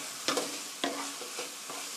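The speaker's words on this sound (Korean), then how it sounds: "간장의 향이 이렇게 우러나도록 볶아주세요" Pork with soy sauce sizzles in a hot pan under a steady hiss, while a utensil stirs and scrapes it in a few quick, close strokes.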